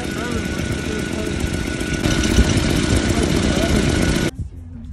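The engine of a 1989 Nissan D21 mini truck runs with a steady, loud droning idle that holds until it cuts off abruptly near the end, leaving quiet background noise.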